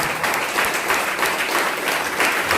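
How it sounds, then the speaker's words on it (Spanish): A church congregation claps together during a Pentecostal service, with steady, dense applause filling the room for a few seconds and no voices heard over it. "Vamos a dar las palmas bien bonito al Señor Jesucristo de este mensaje."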